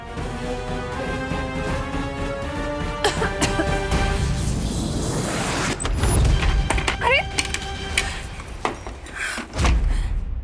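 A stuck door is pushed and rattled, producing a few heavy thumps and knocks mixed with clatter over a busy background of music and effects, with the loudest thuds coming later in the stretch.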